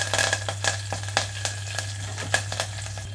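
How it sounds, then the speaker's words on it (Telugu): Tempering seeds and curry leaf sprigs crackle in hot oil in a pan, with sharp irregular pops over a steady low hum from kitchen equipment. "కొంచెం కరివేపాకు రెమ్మలు కూడా"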